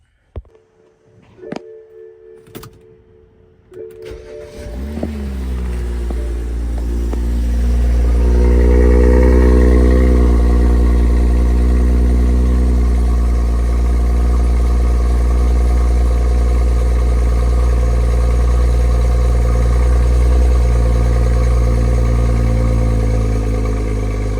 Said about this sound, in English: we're gonna go ahead and give you a cold start again and head out